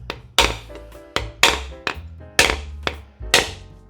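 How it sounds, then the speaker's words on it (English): The dull side of a cleaver whacks a coconut being prepared for Fijian kokoda, a series of about eight loud, sharp hollow knocks at an uneven, steady pace, close up with no talking. "whenever you hold a cleaver and whack a coconut"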